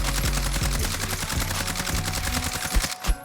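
Rapid automatic gunfire in a first-person shooter video game, fired with uncontrolled recoil: a loud, dense stream of shots for about three seconds, then a brief pause and a couple of final bursts.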